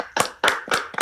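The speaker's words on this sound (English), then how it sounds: "Let's give us a round of applause." Three or four short bursts of hand clapping from a small group on a podcast, each flurry brief with gaps between, close and loud.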